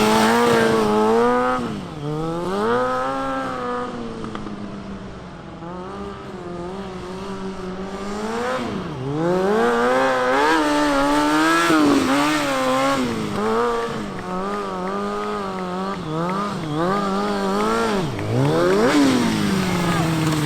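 A stunt motorcycle revs hard through acceleration runs and braking passes, its engine note sweeping up and down repeatedly and staying loud and close throughout, with a rider's voice occasionally under the engine.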